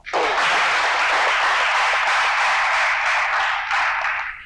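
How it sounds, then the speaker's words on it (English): An audience gives the young debaters at an engineering event a round of applause, with dense, loud, sustained clapping that fades slightly at the close. "please our debaters a round of applause"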